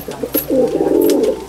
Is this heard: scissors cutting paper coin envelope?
no